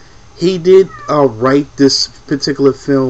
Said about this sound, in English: that's my cat looking for attention.